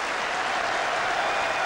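A capacity cricket crowd at Old Trafford applauds, a dense, continuous burst of clapping that stays level from start to finish.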